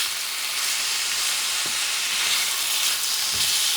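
Ground beef breaking apart and stirring in a hot frying pan for Puerto Rican-style arroz con carne molida, a steady loud sizzle with a few soft scraping knocks of the spoon.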